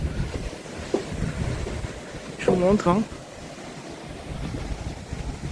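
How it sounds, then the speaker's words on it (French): Wind buffets a phone microphone outdoors under a darkening, clouding sky, a steady low rumble running throughout beneath a woman's brief speech. "il y a du vent, vous allez plus m'entendre"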